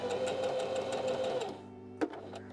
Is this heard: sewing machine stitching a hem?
yes